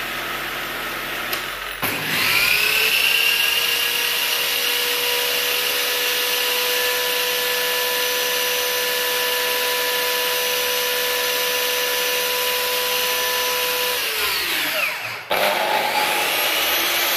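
A Parkside PTK 2000 D3 table saw spins up and runs at a steady, loud, constant whine for about twelve seconds, then winds down, with no talking over it.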